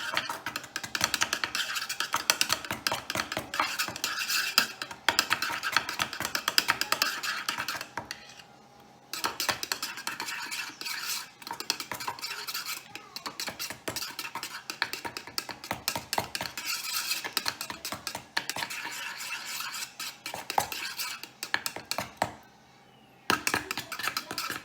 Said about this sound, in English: So I'm gonna mix this together to get the consistency right.